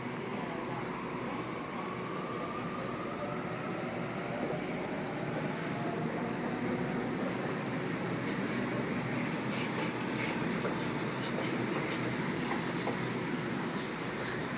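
A Sydney suburban train pulls out of Seven Hills station, its steady broad rumble and rail noise filling the platform throughout, with faint higher clatter building toward the end.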